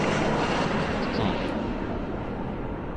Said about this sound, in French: Je monte plus le volume du moteur.